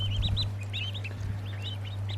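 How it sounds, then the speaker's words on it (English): High, rapid peeping from several young mallard ducklings, overlapping chirps close by, over a steady low electrical hum. "Now they're mallard ducks"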